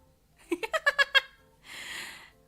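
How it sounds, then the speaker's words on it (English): A cat makes a short run of quick, clipped chirping calls in the background of a home drawing stream, followed by a soft breathy rustle, with no one talking over it. "Sorry if you hear my cat in the background."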